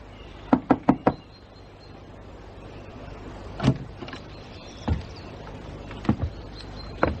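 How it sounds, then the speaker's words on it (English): Knocking on a wooden door in a radio drama: a quick burst of four sharp raps, then a few scattered single knocks and thuds over a quiet room background. "you knock on the door"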